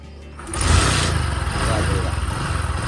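A motorcycle engine catches after a kick and settles into a loud, rapid, chugging idle, close by and running steadily.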